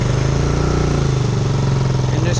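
A Honda Recon ATV creeps in first gear through a muddy creek, its engine a loud, steady low rumble with a pulsing idle-like beat throughout.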